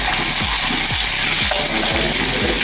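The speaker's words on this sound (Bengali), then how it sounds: "ডিম কটা ভেজে নিচ্ছি বন্ধুরা।" Eggs fry in a pan with a loud, constant sizzle close by, and soft low thumps repeat roughly every half second beneath it.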